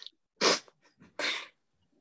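Two sharp sneezes, one after the other, loud and close, with a short pause between them, during an online lecture on convolutional neural networks.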